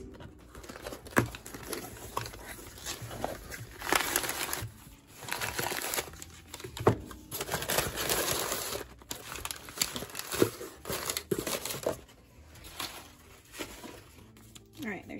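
A product package sealed with string tape is torn open, with close, irregular crinkling, crackling and tearing of plastic and paper.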